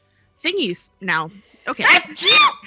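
A person sneezes at close range and with a fair amount of force. It comes in the middle of talk at a tabletop role-playing game session, and other voices speak before and around it.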